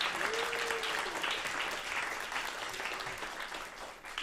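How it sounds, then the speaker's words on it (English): A seated audience at a climate-themed science event gives quiet, distant-sounding applause, a soft even patter of many hands that thins slightly toward the end. "So if we can just give her a round of applause."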